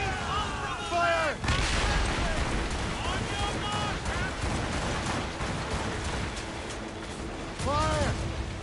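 Ship cannons boom in Assassin's Creed Rogue in loud bursts of heavy blasts with rumbling tails, set against sea-battle noise. Shouted voices are heard between the volleys.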